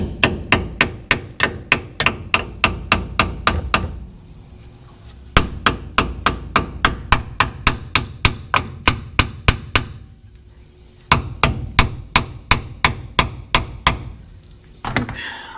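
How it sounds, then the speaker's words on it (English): A hammer taps steadily around the perimeter of a seal on a GMC Sonoma's 4WD components. The sharp metallic strikes come in quick, even bursts of about a dozen blows each, close and loud, with brief pauses between the runs. "I'm just going to gently tap around the perimeter."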